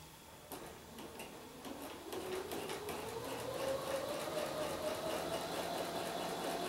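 A sewing machine stitches a quarter-inch seam on a tulip quilt block: faint, quick ticking stitches with a motor whine that rises and grows slightly louder toward the end, with no talking.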